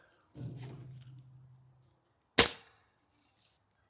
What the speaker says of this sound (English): here goes the hollow points and the Ruger pellet gun